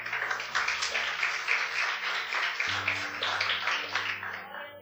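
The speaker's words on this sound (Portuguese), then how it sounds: "Você pode aplaudir o Senhor?" Church congregation applauding during a Portuguese-language service, steady sustained clapping from many hands over organ or keyboard chords, fading slightly at the end.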